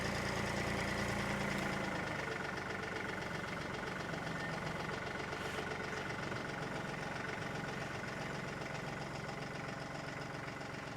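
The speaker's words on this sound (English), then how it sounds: "Rev up the engine just a little bit." A tractor's loader engine idles steadily throughout, a continuous mid-pitched knocking rumble at constant level with no talk.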